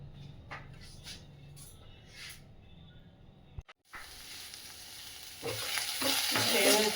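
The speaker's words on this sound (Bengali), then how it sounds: "দিয়ে রসুনটা আর পেঁয়াজটা কিন্তু বেশ ভালো করে একটু নেড়ে নেব" Garlic and onion frying in a pan while being stirred, a soft sizzle with scraping strokes that grows louder and busier toward the end.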